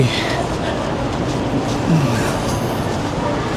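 A steady rumbling roar of a moving MRT metro train in Singapore fills the clip, a continuous rushing noise without pause.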